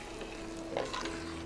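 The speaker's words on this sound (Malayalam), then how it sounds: "ഇനി നല്ലതുപോലെ ഒന്ന് മിക്സ് ചെയ്തെടുക്കാം." Ghee-fried cashews and raisins being stirred into a pot of ada payasam, a soft, steady sizzle with a brief louder scrape of the spoon midway, close and alone.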